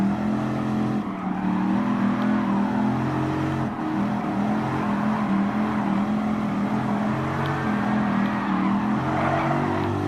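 Race cars in Gran Turismo Sport, a Porsche 911 GT3 RS chasing a Mitsubishi Lancer, with engines droning and revving loudly and continuously, tire noise layered in, close and steady without speech.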